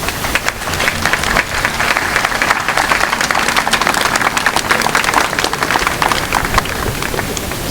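A crowd applauds the festivities committee at the opening of the 2018 medieval festival in Josselin, with dense, sustained clapping from many hands that holds evenly throughout.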